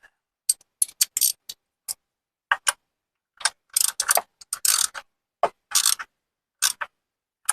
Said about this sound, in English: And ratchet.